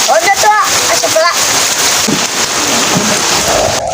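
Heavy rain pours as a steady dense hiss throughout, with people talking over it.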